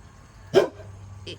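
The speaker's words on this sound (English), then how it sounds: "excuse the dog barking at the truck." A single short dog bark at a truck rings out against a quiet background, followed by a fainter brief yip a moment later.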